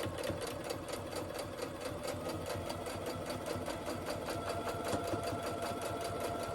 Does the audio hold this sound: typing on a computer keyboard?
no